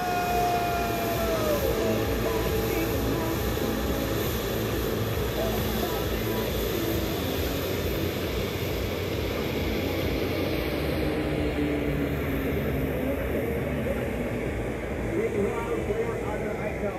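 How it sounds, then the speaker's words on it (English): Propeller drone of Indonesian Air Force KT-1 Woongbi trainers flying the Jupiter Aerobatic Team's finale at an airshow in Langkawi, a loud continuous engine roar with a commentator talking throughout. "It's another of these quarter clovers now into a vertical break, which serves as the finale of the Jupiter Aerobatic Team's performance."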